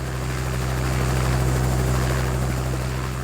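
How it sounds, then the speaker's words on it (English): A helicopter flying overhead, its steady rotor and engine drone loud and continuous throughout, with a strong low-pitched throb and no voices. "we're in something I like to call a helicopter."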